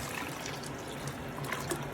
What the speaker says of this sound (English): so I've got almost an equal amount of chicken stock that I had